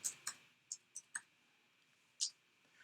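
Someone types a single word on a computer keyboard. About half a dozen quiet, sharp key clicks come in an irregular run, with a short pause before the last one.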